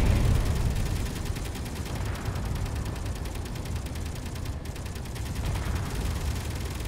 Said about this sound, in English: Yeah, the drone's firing on you.